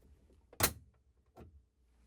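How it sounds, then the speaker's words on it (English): A Whirlpool/KitchenAid/Maytag refrigerator door swinging shut: one loud, close thump and seal slap, followed about a second later by a softer knock, in a quiet room. "close the door."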